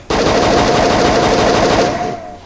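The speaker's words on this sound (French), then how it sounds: "La mitraillette qui est pas mal aussi." A machine gun in a war video game fires one loud, continuous burst of rapid shots lasting about two seconds, close and alone before it trails off.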